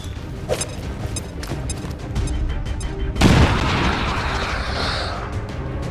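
Bombs go off in XCOM 2 as a heavy booming blast that hits suddenly and rolls on into a long rumbling tail. Steady game noise plays underneath the explosion.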